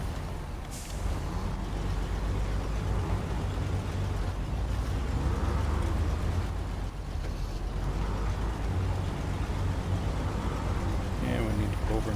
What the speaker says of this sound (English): This Jeep sounds like crap.